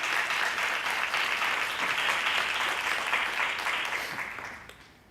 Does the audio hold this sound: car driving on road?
no